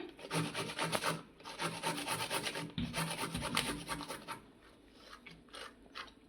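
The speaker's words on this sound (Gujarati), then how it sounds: "આવી રીતે આપણે બધા મૂળા ખમણી લેવાના છે" Radish being grated, a rhythmic rasping scrape repeated in quick strokes, close and fairly loud, easing off toward the end.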